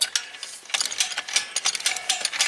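The ratchet of a hand winch come-along clicks in rapid, close, metallic bursts, a dense run of pawl clicks broken by short pauses as the handle is worked.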